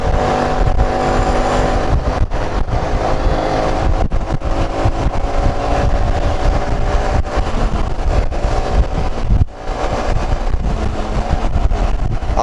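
A Suzuki Address 125cc scooter accelerates on the road; a loud, steady engine drone blends with heavy wind rush, with one brief dip near the end.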